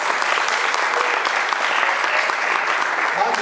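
An audience at an awards ceremony claps warmly and steadily, a dense, continuous patter of many hands with no voices rising above it.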